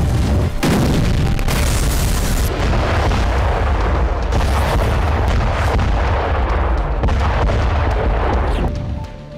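Artillery fire and explosions in the war in Ukraine, a dense, continuous roar of loud booms and blasts with sharp bursts throughout, close and overwhelming.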